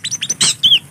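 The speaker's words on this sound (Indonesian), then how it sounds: "Sekarang udah turun bos, si burung kacirnya." Wild Oriental magpie-robin giving quick, bright, close chirps and short whistled notes in rapid succession, loud and clear with no talk.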